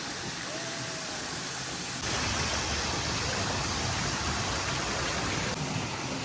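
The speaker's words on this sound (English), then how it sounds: "We're coming up to some waterfalls." Waterfalls beside a hotel pool at the Ritz-Carlton Grande Lakes resort in Orlando, Florida. A broad, constant rush of falling water fills the scene and gets suddenly louder partway through, as if the listener is moving closer to the falls.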